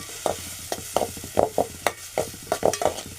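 Onion and tomato with salt are stirred in a pan, a spoon scraping and knocking against the metal in about a dozen uneven strokes over a soft, low sizzle, close up with no talking.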